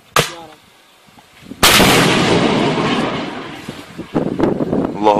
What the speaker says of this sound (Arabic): لواء فرسان الحق يقوم برمي صاروخ تاو على جبهة معطرين استهداف مدفع 122